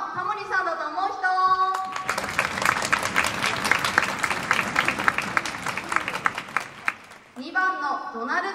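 A concert hall audience at a high school band's annual concert claps to vote on a quiz answer, a burst of dense applause lasting about five seconds, framed by a presenter's voice before and after.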